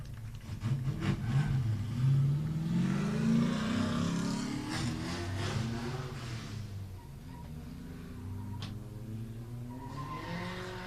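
Race car engines roar and rev at a drag strip start line, including a red Nissan 350Z, with rising and falling engine pitch and some tire squeal. The sound stays loud and sustained throughout, then eases slightly near the end.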